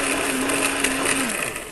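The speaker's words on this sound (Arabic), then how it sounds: "من قوته أراويكم إنه يكسر الزجاج" A powerful electric blender crushes glass with a loud, steady motor roar and gritty grinding that runs unbroken for a couple of seconds, with no voices.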